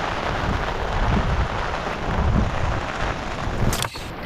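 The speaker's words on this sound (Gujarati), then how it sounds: "કાલ રાતનો એટલો વરસાદ વરસે છે ને કે અમારા ઘર પાસે પાણી ભરાઈ ચૂક્યા છે" Heavy overnight rain pours down steadily as a dense, continuous hiss over a flooded residential area, with a brief sharper crackle near the end.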